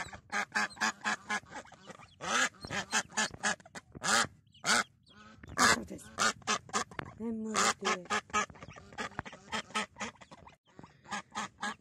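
A mother fowl and her chicks call in a series of loud, close, honking quacks and cackles in irregular bursts, with someone talking between and over the calls.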